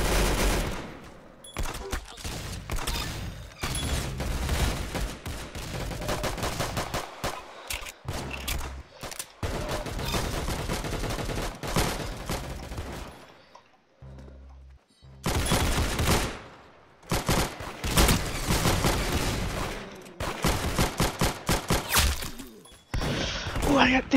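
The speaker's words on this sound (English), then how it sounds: "I think I got the machine gun." Machine gun fire in the Roblox game Arsenal rattles in long, loud, rapid bursts broken by short gaps, close and dominant for most of the stretch.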